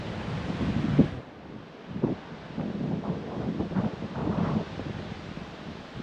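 Strong wind on Sal island buffets the microphone in heavy, continuous gusts, with a few louder low thumps and rumbling bursts throughout.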